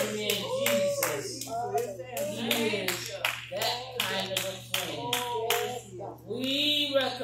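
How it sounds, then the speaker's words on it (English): A church congregation claps hands in praise during a Sunday service, with dense, rapid overlapping claps that rise and fall across several seconds beneath a steady hum and scattered voices and shouts. "Give God a hand clap of praise."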